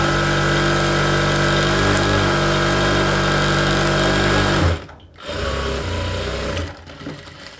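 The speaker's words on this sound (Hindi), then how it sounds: "और फिर हम इसे इस तरीके से फोल्ड करेंगे और इसमें सीधी सिलाई लगा देंगे" Sewing machine running steadily, stitching a straight seam along a folded 1.25-inch fabric strip for a blouse; loud continuous whirring close by, briefly stopping near the end before running again.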